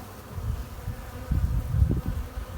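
Bees buzz in a low, uneven drone close around a beekeeper installing a bee package, with swells in loudness as they move near.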